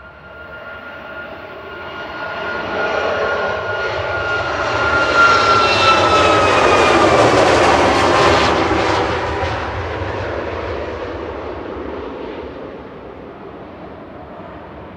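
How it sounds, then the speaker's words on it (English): A Ryanair Boeing 737 MAX 8-200 jet, just over a year old, departs Manchester Airport, its loud engine roar swelling as it passes close, whining tones sweeping, then fading into a steady distant rumble. "Departing next is Ryanair over to Cologne in Germany with flight 1593. This is a MAX 8 200"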